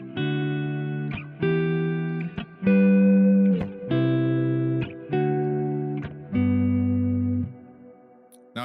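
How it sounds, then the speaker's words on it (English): An electric guitar runs through a Strymon BigSky pedal set to hall reverb, playing a steady run of held chords in close succession, loud and unaccompanied, each tail blending into the next strike. "If I do that with a hall reverb like we've just had,"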